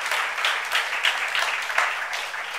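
A church youth worship congregation applauds, a moderately close, steady patter of many hands clapping with slight swells throughout.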